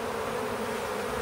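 A caught honeybee swarm buzzes around a hive box, a continuous, dense droning hum of many wings, close and steady with no talk.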